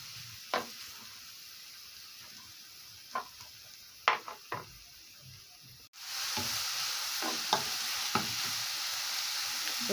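Onion frying in a pan for baked béchamel pasta with minced meat: faint stirring scrapes and clicks, then the second half of the onion goes in and a loud, steady close sizzle fills the rest.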